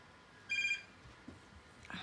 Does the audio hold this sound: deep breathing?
no